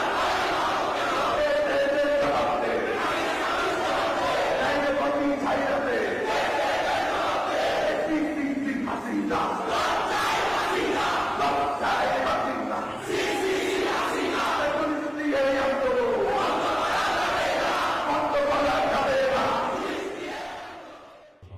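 A nighttime protest march crowd in Paltan, Dhaka, chants slogans in loud, steady call-and-response waves, many voices together and continuous throughout, fading slightly at the end.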